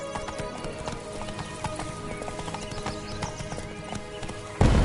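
A horse gallops in The Witcher 3 with fast, rhythmic hoof clip-clops close up and a brief neigh, ending in a sudden louder burst.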